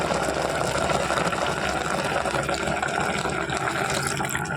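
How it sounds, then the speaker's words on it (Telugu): Water is poured into a pot of gongura cooking with tamarind, salt, chilli, turmeric and onion, a steady close gushing fill with no talk. "కొద్దిగా వాటర్ యాడ్ చేసుకుందాము."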